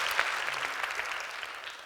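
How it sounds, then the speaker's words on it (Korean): A lecture audience breaks into applause, a brief dense burst of many hands clapping at steady strength. "네, 박수 한번 주시죠."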